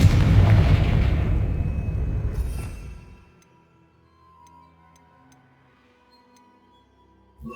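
A Confringo spell blast in Hogwarts Legacy: a loud, broad explosive roar that fades over about three seconds into near silence, with faint ticking game ambience afterward.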